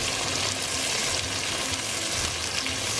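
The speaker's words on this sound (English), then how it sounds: "Be careful, oil, hot oil." Hot oil with onions for channa masala sizzles loudly and continuously in a pan up close, a dense, unbroken frying hiss with faint stirring underneath.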